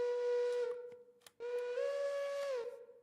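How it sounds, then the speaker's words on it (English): A VT1 chime train whistle from the game Railroader blows in two sustained, clear blasts separated by a brief gap, the second bending slightly in pitch before fading. "I reckon that might be the new whistle for this railway"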